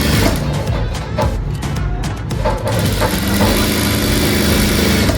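An electric sewing machine runs steadily as it stitches a round-neck waistcoat, giving a continuous motor hum with a rapid mechanical chatter and no clear speech.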